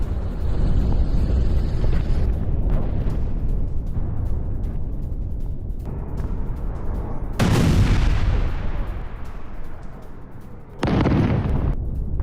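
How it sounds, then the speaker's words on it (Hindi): Repeated explosions in Iranian cities in news footage: heavy, rumbling blasts and bursts with dense low-end roar, several loud broadband impacts standing out over continuous noise, no speech. "किस तरीके से ईरान के अलग अलग शहरों में धमाके हुए"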